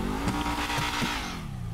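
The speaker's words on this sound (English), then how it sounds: "Surprised she don't hear me with this loud engine" Loud revving engine of a Trans Am muscle car in GTA 5, a continuous rough roar with tire squeal and skidding as it accelerates, close and alone with no talk.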